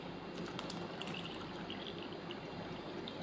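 Water poured from a container into hotcake batter made with powdered mix and a can of evaporated milk, a steady continuous liquid stream with light splashing, close and alone throughout.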